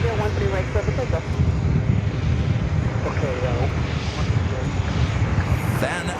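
A jet airliner roars on the runway at New York's JFK airport during takeoff, a loud, continuous engine rumble with whining tones rising over it, while radio voices talk underneath.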